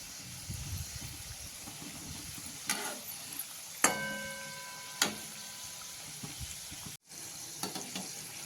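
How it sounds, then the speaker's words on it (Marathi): Modak petals deep-frying in hot oil, a steady soft sizzle with a few sharp clicks and clinks of a utensil against the pan, close by with no talking. "अशा पाकळ्या ही सुद्धा व्यवस्थित ह्या तळता आल्या पाहिजे, म्हणजे तळून छान झालं पाहिजे"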